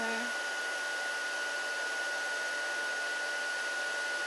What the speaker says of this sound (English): Now I'm going to grab out my heat gun, and we're going to heat this image so that it changes from a powder to enamel.